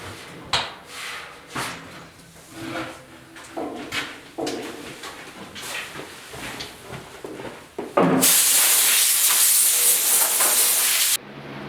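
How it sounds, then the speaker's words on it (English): Epoxy primer sprayed onto the bed of a 1972 Ford 4x4 short-box truck: a loud, steady broadband hiss of a spray gun lasting about three seconds, following a stretch of softer shop clatter and handling noises. "So we need a epoxy down first. So I'm going to hit it with that"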